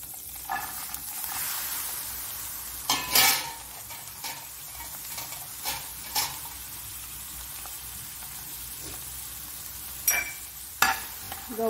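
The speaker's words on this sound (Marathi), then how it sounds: "गवार छान तेलामध्ये परतून घेऊया।" Cluster beans sauté in hot oil with a soft continuous sizzle, punctuated by intermittent stirring scrapes and clatters of a spoon against the pan, close up without talking.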